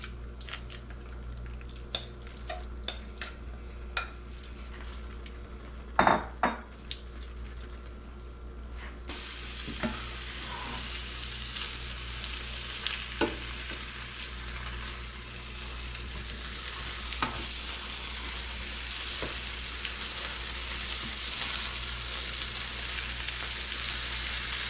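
A tuna and cream cheese omelet mixture with eggs cooks in a pan, giving a soft, continuous sizzle and hiss with occasional sharp taps and clicks of a utensil.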